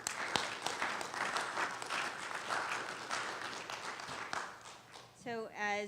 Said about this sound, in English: Please give a round of applause and welcome Dr. Thompson to the dais to introduce our speaker tonight